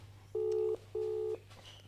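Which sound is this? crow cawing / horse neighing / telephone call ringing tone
telephone call ringing tone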